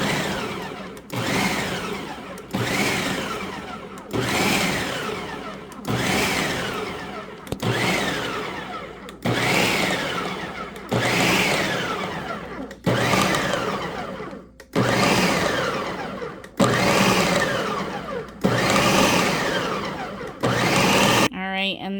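Food processor pulsing chickpeas for a chunky avocado mayo chickpea salad, about ten loud whirring bursts in a steady rhythm, each one or two seconds long with brief gaps, close up, with no talk over them.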